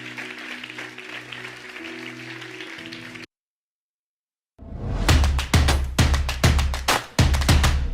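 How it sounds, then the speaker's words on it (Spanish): Loud applause from a church congregation, opening with music and a brief pause, then bursting in dense, sustained clapping with sharp bursts that fill the room. "Dale un fuerte aplauso a Dios si lo crees."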